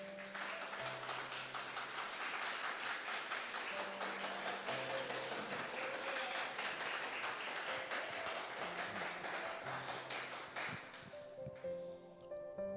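Church congregation applauding during an evening sermon, a dense sustained patter of many hands over a soft organ or keyboard pad, fading near the end as the music carries on alone.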